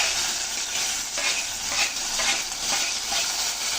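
Garlic and tomato fry in a hot pan for pepper rasam, giving a steady, close sizzle with soft scraping strokes as a utensil stirs the mixture.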